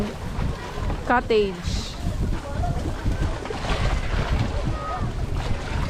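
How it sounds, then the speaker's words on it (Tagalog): Strong wind buffets a floating cottage at Bantayan, Cordova, Cebu, roaring steadily near the microphone with water sounds beneath, while people talk over it throughout. "ang lakas ng hangin."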